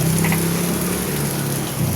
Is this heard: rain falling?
yes